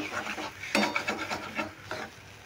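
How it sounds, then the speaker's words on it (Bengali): Pointed gourd and coriander leaves being stirred in a pan, the spatula scraping and rubbing against the metal in a steady series of close rasping strokes, with no talking. "ধনেপাতাটা দিয়েও আমি ভালো করে নেড়ে একদম শুকনো শুকনো করে নেব"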